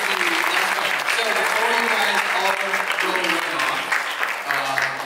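An audience at a Hasbro Transformers brand panel claps and cheers in loud, sustained applause that fills the room, with voices calling out over it.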